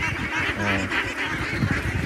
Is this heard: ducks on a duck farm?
yes